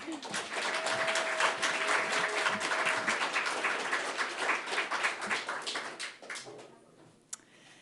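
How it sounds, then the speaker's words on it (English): Applause for Karen at a storytelling night, a full round of clapping from the audience that holds steady for several seconds before thinning out into a few last claps and quiet. "another round of applause for Karen"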